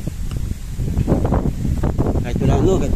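Strong wind blows outdoors at a bamboo hut under construction, buffeting the microphone with loud, gusty rumbles throughout; someone talks over it.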